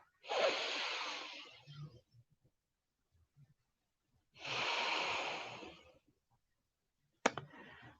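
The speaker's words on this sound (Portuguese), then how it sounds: "Vamos fazer uma respiração profunda" Two long, deep breaths during a guided meditation, each a breathy rush lasting over a second, separated by quiet pauses, followed by a brief click and a short softer exhale.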